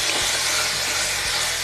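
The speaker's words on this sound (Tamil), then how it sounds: "இப்போ இஞ்சி பூண்டு பேஸ்ட் போட்டு நல்லா வணங்க விடுங்க" Ginger garlic paste sautés in a hot pan for sambar rice (bisi bele bath), producing a loud, dense, continuous sizzle heard up close with no talking.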